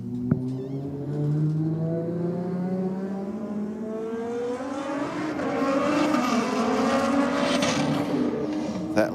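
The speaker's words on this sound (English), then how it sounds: "Next up, we've got the Holden Ute taking on the Evo Lancer." A Holden Ute and an Evo Lancer launch side by side in a drag race, engines revving and climbing steadily through the gears, loud and close with overlapping rising engine tones.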